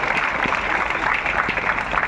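A crowd applauds at a health gathering, a dense, loud wash of hand claps running steadily throughout, with faint voices mixed in.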